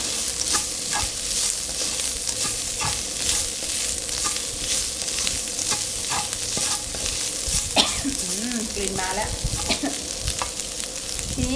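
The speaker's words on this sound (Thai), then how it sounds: "เราผัดต่อ ผัดให้พริกแกงมีกลิ่นหอมนะคะ" Coarse red curry paste stir-fried in a hot pan, giving a steady loud sizzle broken by regular scraping strokes of the spatula throughout.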